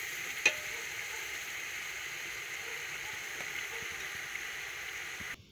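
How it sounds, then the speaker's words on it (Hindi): Chicken frying in a pot for chicken haleem, giving a steady close sizzle with soft stirring scrapes underneath and one brief clink early on, continuous throughout and with no voices. "चिकन अच्छी तरह मैंने भून लिया है"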